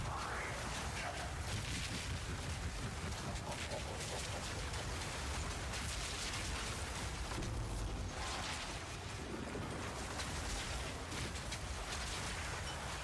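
Dense, continuous crackling fire explosions from the Herald of Ash skill in the video game Path of Exile 2, a loud roaring, rain-like wash of noise throughout with no clear gaps.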